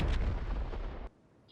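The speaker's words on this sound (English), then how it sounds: "The rocket launcher is also no different than other single shot weapons" A rocket launcher fires in Fortnite with a single loud, deep booming blast that rumbles for about a second and then cuts off abruptly into near silence.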